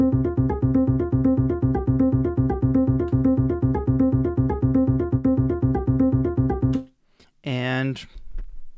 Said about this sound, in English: you can hear that sound is arpeggiated.